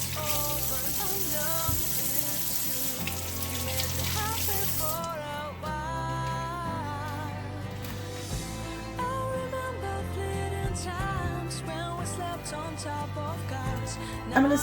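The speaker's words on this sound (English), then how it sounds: "rinsing your green peppers. And then you're going to rinse your onions." Green peppers and onions are rinsed under running tap water in a kitchen sink; the flow is steady and close at first, then lighter splashing continues with no talking.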